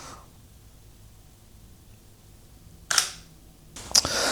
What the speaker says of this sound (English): I'll let that shoot a few shots. 3 or 4 shots without me touching